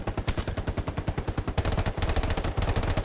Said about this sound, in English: Gunfire's coming from 168 in the tree line.